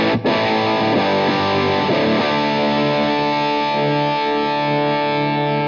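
Electric guitar played through a mini amp with the variac engaged at low gain on the middle switch: a single strummed distorted chord rings out loud and sustained, slowly decaying with rich overtones and no talking.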